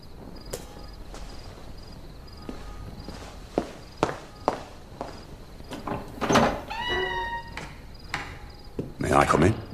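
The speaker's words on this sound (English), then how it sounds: "Arya, open the door." An indoor door sliding and opening at a medieval-fantasy bedroom, heard amid several sharp footsteps and knocks, with a louder scraping rattle near the middle and a clattering burst at the end, over a faint insect-like hum.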